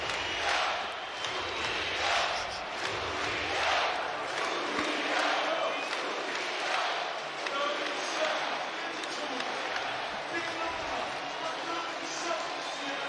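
A stadium crowd roars and cheers steadily throughout the 2023 MLB Home Run Derby, a dense, sustained wash of noise with swells, while an announcer talks over it.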